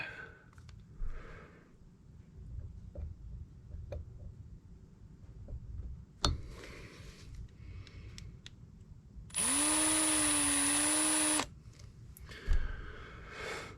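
A power drill bores a hole without a pilot hole for a homemade tunnel ram throttle linkage on a 1973 Dodge Dart: a loud, steady whine of about two seconds stands out between quieter workshop clatter and handling noises.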